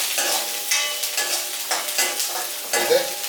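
Dried red chillies fry and sizzle in a pan while being stirred, giving a continuous close crackle broken by repeated scraping stir strokes, with no talking.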